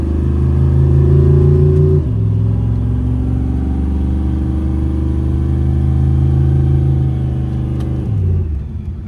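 Modified Chevrolet Malibu engine idling with a deep, steady rumble, briefly shifting pitch near the start and again near the end as the revs change; no voices.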